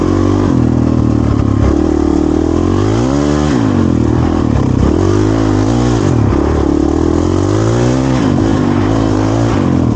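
A 2023 Honda CRF450RL dirt bike fitted with a Yoshimura RS4 exhaust and Taco Moto SX1 ECU revs hard and continuously, its pitch climbing and dropping as it accelerates and shifts, loud and close throughout with no talking.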